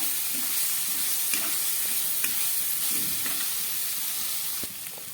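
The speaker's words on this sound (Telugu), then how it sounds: "దీని పచ్చివాసన పోయే వరకు బాగా ఫ్రై చేసుకోవాలి." Ginger garlic paste frying with onions and green chillies in a pan, a steady hissing sizzle with a few soft stirring scrapes and taps, close and alone, easing slightly at the end.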